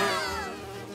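A steady, loud cartoon buzzing of bees fills the inside of a flower, a continuous droning hum that wavers slightly in pitch and stays close throughout, with no speech.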